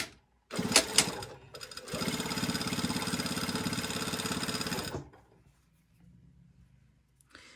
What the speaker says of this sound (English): Okay, I'm just sewing dot to dot, basically.